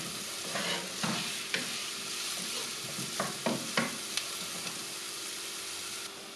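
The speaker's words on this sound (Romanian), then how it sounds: "Când s-a încins, adăugăm ceapa și o lăsăm până ce se înmoaie" Onion frying in hot oil in a pot, a steady close sizzle broken by several sharp scraping stirs of a spoon against the pot.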